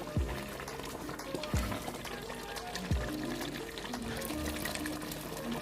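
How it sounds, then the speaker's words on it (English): Water poured into a pot of simmering beef trotter broth, a steady bubbling, pouring wash with a few low thumps near the start, close and continuous throughout. "I'm adding the water to loosen the consistency"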